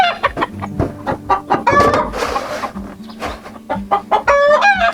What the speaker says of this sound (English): My chickens are not that happy right now.